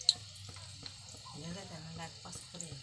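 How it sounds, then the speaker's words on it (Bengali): Gulab jamun dough balls frying in hot oil give a soft, steady sizzle with small bubbling crackles, close and low, under someone speaking. "আমার বলগুলো ভাজা হচ্ছে।"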